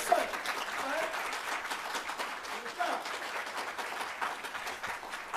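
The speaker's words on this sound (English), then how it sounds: "So let's give him a round of applause." An audience at a national reparations convention gives a round of applause, a soft, dense spread of clapping that stays fairly even and somewhat distant, with a voice talking underneath.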